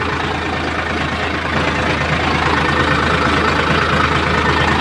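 A new Sonalika 745 DI tractor's engine runs at a steady idle, a continuous low mechanical rumble at an even, fairly loud level, with no voices over it.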